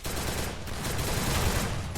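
Dense, continuous gunfire from the Free Fire battle-royale mobile game, with rapid overlapping shots forming a steady loud barrage throughout, with no talk.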